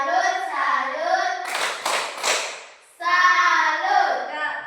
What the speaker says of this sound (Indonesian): Oke, kita tepuk salut.